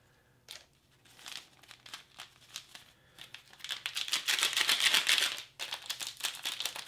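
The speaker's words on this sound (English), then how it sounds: "we'll get our little packet off the back here. It's glued on there pretty good" A glued packet is peeled off the back of plastic ration packaging, with crinkling and tearing rasps that start faint, then grow into a louder, rapid ripping run before trailing off.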